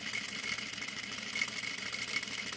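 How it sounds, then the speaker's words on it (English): An electric sewing machine runs steadily as it sews a line of stitching with backstitches, giving a close, continuous mechanical whir and hum with no voices. "So I'm going to start sewing, pick a spot, backstitch, keep sewing, backstitch,"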